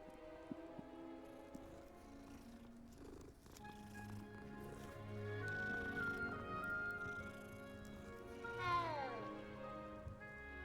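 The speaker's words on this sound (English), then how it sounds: "Alright, there's a cat, I'm gonna pet it." A cat in the video game Hogwarts Legacy purrs steadily while being petted, a soft continuous rumble under game music and ambient tones, with a rising whoosh near the end.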